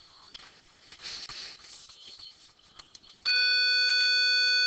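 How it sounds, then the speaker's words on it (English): An electronic alarm suddenly goes off partway through, a loud, steady multi-tone beeping that holds continuously to the end after quieter indoor background noise. "Sorry guys, that was the alarm."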